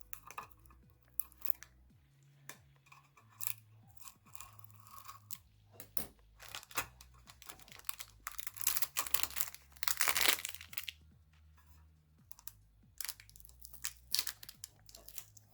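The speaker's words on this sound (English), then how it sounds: "I'm just going to take my little scissors and cut through the tape here" Small scissors snip and crunch through packing tape up close, with irregular sharp clicks, crinkling and a louder burst of rustling partway through, and no one talking.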